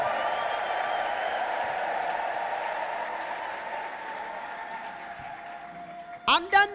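A congregation at a church service ululates and claps as a sustained, steady roar of crowd noise, ending with a brief, sharp burst of trilling ululation close to the microphone.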